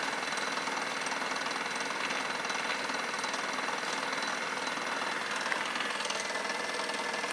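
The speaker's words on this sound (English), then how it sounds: "the motor is slowing right down, and I can almost guarantee it's using a lot more current" A Bedini SSG pulse motor with its single-battery modification runs alone, a dense, steady mechanical buzzing and rattling that stays even in loudness throughout, with no talking.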